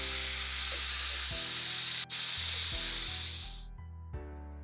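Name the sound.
pressure cooker whistling while cooking dal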